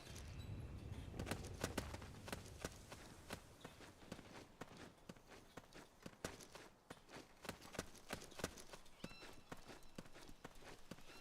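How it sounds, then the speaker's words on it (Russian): A small animal runs in the Metal Gear Solid 4 video game, making faint, quick, irregular tapping footsteps in scattered bursts over a low background. "Хомяк какой-то бежит, смотри,"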